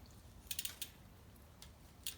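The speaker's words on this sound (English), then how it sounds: "I shift my rear derailleur down to the smallest sprocket in the cassette" A bicycle rear derailleur shifts down to the smallest sprocket of a 10-speed cassette, giving a few faint, crisp mechanical clicks and ticks in quick clusters against a quiet background.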